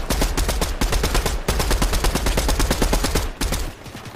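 Loud, close automatic gunfire in the Fortnite battle royale video game, long rapid bursts of evenly spaced shots with brief gaps, easing slightly near the end, and no talk over them.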